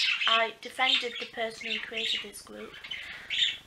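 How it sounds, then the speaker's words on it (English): Pet birds squawk loudly and repeatedly indoors, harsh bursts overlapping a person talking throughout. "excuse my birds."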